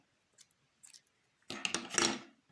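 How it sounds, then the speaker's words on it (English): Scissors snip through yarn while finishing a crocheted heart wall hanging, a short close burst of crisp cutting after faint handling rustles, with no talking. "and make a chain, and then cut your yarn."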